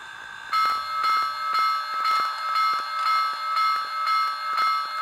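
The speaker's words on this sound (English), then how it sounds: "Let's try the bell." An HO scale Rivarossi Union Pacific 4014 Big Boy model locomotive's decoder bell rings steadily, about ten evenly spaced metallic dings over a continuous electronic hum, with no talking.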